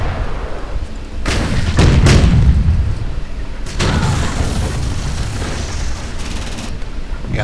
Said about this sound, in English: Let's get the railgun to hit right about here.